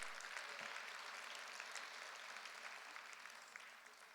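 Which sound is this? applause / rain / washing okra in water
applause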